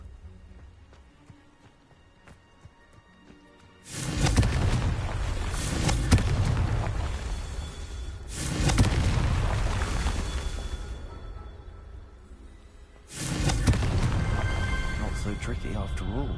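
Confringo spell explosions from a Harry Potter video game arrive as three loud, rumbling blasts, each bursting suddenly and decaying over a few seconds, set apart by quieter gaps.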